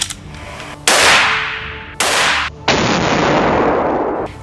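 A sniper rifle fires at a 300 m target outdoors: three sharp, loud cracks, each followed by a long rolling echo, with the last two shots coming closer together.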